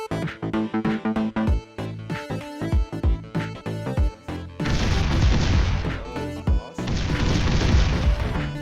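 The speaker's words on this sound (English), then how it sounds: "Do you see my explosion?" Game explosions in a 3D multiplayer Binding of Isaac-like dungeon game: a run of sharp thudding hits, then two loud, sustained blasts with crashing debris, close and prominent.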